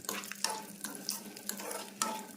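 Raisins and cashews fry in ghee in a pan, a soft sizzle broken by several sharp scraping stirs at irregular intervals, close and fairly quiet, with no talking.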